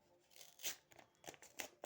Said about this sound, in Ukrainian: Я порвала пакетик.